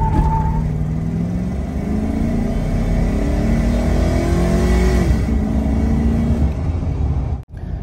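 A tuned stock Chevrolet Silverado pickup makes a full-throttle pull with emission codes disabled: a loud, continuous engine roar that climbs steadily in pitch over several seconds, heard from inside the cab, with no talking.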